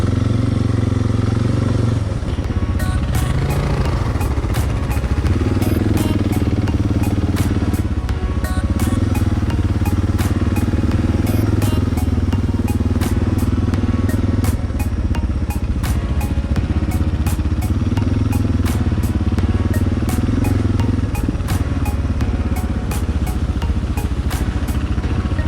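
A motorcycle engine drones steadily up close for the whole stretch, revving and easing off in waves, with clattering and rattling over the top.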